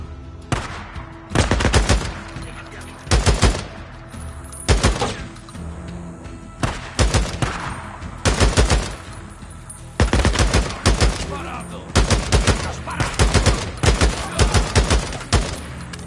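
Gunfire erupts in the video game Days Gone, loud and close, with repeated rapid bursts of automatic shots broken by short pauses and a few single cracks, all without talk.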